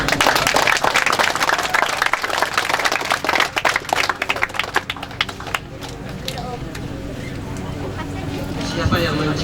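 A crowd at a school anniversary event applauds loudly, dense clapping that thins over several seconds into a murmur of voices and background noise.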